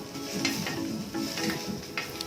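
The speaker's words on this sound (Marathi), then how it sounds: "आता आपण कोथिंबीर भाजून घेऊ कोथिंबीर सगळ्या शेवटी भाजून घ्यायची" Coriander leaves roasting and being stirred in a kadai, with a steady soft sizzle and repeated scraping strokes of a spoon against the metal pan, close and continuous.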